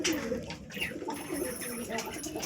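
Young pigeons cooing faintly in low, repeated throaty murmurs amid room noise, with occasional human voice mixed in.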